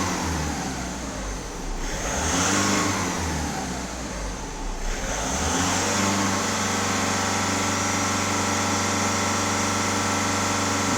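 A VW Golf 1.6 TDI diesel engine is held at raised revs around 2900 rpm during an emissions system check, a steady droning hum with a couple of small swells early on, then constant.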